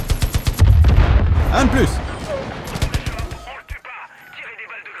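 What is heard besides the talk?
gunfire in the video game Far Cry 5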